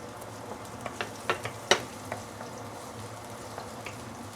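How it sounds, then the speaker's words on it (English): Shallots sautéing in hot oil for braised pork belly, a low steady sizzle broken by a few sharp clacks and scrapes of stirring, close and fairly quiet with no talking. "Let me saute the shallot."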